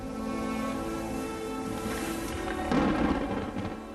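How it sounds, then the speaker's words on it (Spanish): Stormy sea battering Hawkins's weathered sailing ships: a steady roar of wind and surging waves with low rumbling, swelling into a louder crashing burst near the end, no voices. "Cuando las tormentas fuerzan a las baqueteadas naves de Hawkins a buscar abrigo en un puerto mexicano"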